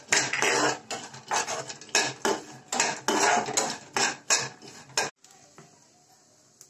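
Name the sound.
pistachios and poppy seeds being roasted and stirred in a pan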